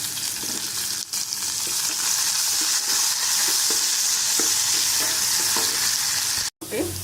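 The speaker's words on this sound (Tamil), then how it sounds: "இதுவும் நல்லா ப்ரௌனாக வதங்கட்டும்" Onions and spices fry in hot oil for a kurma, giving a loud, steady sizzle. Occasional soft stirring knocks sound close up throughout.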